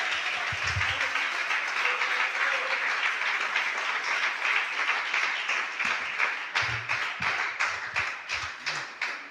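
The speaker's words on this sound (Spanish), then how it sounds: "aplauda el poder y la misericordia de Dios" A church congregation claps in praise, a loud, dense wash of applause that turns more rhythmic and distinct toward the end, with occasional low thumps and scattered voices beneath.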